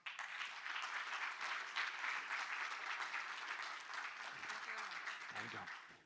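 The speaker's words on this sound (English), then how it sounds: "Please welcome with a huge round of applause" An audience at an ocean conference applauds to welcome a speaker, sustained and fairly dense clapping heard from a distance, quiet overall, tapering slightly at the end.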